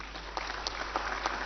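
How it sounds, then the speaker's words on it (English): Sustained applause from a large audience at a formal African Union event presenting candidates for chairperson, steady dense clapping throughout without pause. "I ask that you give them another round of applause."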